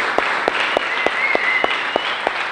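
Church congregation clapping in unison, a steady rhythmic beat of about four claps per second over a bed of scattered applause, fairly loud and close, with no talk.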